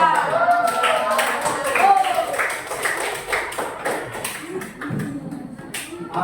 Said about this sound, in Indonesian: nah, tepuk tangan ya buat